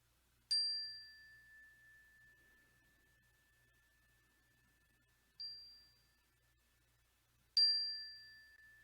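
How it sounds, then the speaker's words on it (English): A meditation bell rings clearly at the start of a quiet guided meditation, its tone slowly fading. A softer strike comes midway and a final loud ring near the end, each leaving a long sustained hum with no talking. "listening to the sound of the bell"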